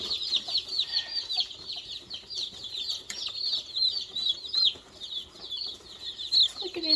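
Baby chicks peep in a dense, continuous chorus of high, overlapping cheeps as they are dipped to find their drinking water; the peeping is steady and fairly close, with no talking.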